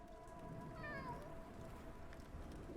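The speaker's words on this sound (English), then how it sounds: "Excuse me? Kitten?" Kitten in the Sherlock Holmes: The Awakened video game giving a single short rising-and-falling meow, faint against quiet background ambience.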